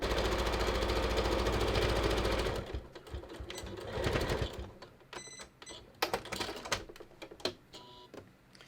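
A sewing machine stitches a half-inch seam that blends to zero on a non-stretch dress form cover, a loud steady motor whir for a few seconds, then slowing and stopping amid scattered clicks and fabric handling.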